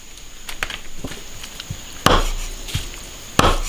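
A knife cuts cleaned duck intestines on a cutting board with a few sharp, close chops at irregular intervals, the two loudest strikes landing hard against the board, with no talking.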